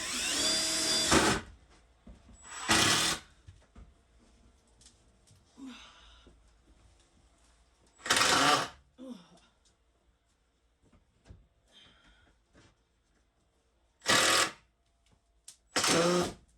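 A power drill drives screws into RV interior walls without pre-drilled holes, whirring in five short, loud bursts, each about a second, separated by quiet pauses with faint handling noises.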